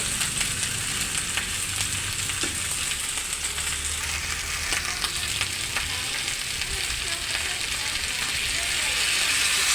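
Two kilos of chicken feet sizzle and fry steadily in a pan, with stirring and scraping throughout, close and continuous, no talking.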